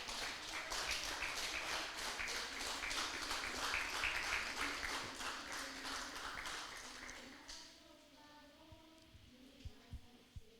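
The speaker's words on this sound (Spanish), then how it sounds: "Denle un fuerte aplauso al Rey, aleluya." Applause from a church congregation during a Spanish-language worship service, a dense wash of clapping for about seven seconds that then thins out into scattered claps and murmuring voices.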